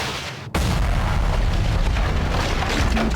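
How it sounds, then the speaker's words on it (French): Lightning ignites gas beneath the ground, setting off an explosion: a sudden deep boom bursts in after a brief lull, then a loud sustained rumbling roar carries on to the end. "ce qui crée une explosion"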